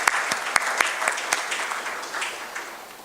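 An audience at a CFA charter award ceremony applauds, a burst of clapping with a few sharp claps up front that thins and fades over three seconds.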